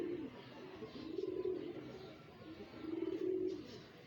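Pigeons coo in low, throaty rolling phrases, two clear bouts close by over a soft background murmur.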